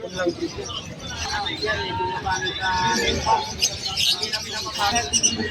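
Lutino and albino opaline birds chirp and tweet at a busy pet market in Malabon, with bright overlapping calls over constant crowd babble and someone talking nearby.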